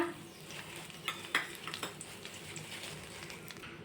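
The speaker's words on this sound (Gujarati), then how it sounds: "બધા જ ખડા મસાલાને આપણે સાતળી લેશું આઠ કે દસ નંગ જેટલા કડી પત્તા" Whole spices and curry leaves sauté in oil for Rajasthani panchratna dal, making a quiet, steady sizzle with a few soft clinks of a spoon against the pan.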